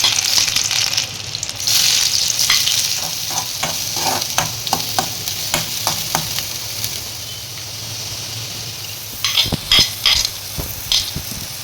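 Chopped garlic sizzles and crackles in hot oil in a pan while being stirred for a pasta masala, a steady close frying hiss broken by sharp spattering pops and stirring scrapes.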